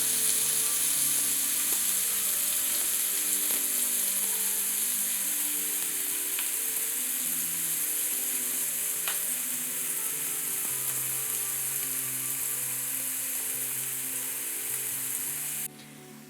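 Roughly minced garlic sizzling in hot oil in a pan, a steady bright hiss that runs evenly throughout while being stirred, cutting off abruptly at the end.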